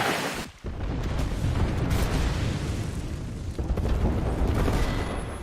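Airstrike explosions erupt in the Apex Legends video game, a sustained barrage of loud, overlapping booms and rumbling blasts filling the whole span after a brief dip near the start.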